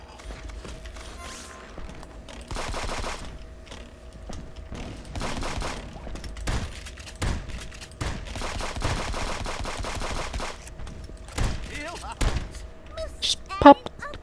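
Shotgun blasts ring out in a video game, in irregular clusters of loud bangs separated by quieter stretches, with a few sharper hits near the end.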